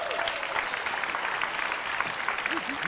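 Applause from a small group sounds as a brief, dense patter of clapping, with a faint voice coming in near the end.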